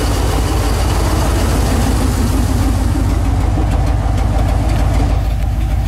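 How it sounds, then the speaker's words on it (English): A Chevrolet K10 truck engine idles through open headers, giving a loud, close, rough and lumpy exhaust rumble that pulses steadily throughout with no talk. "So this is just open headers right now."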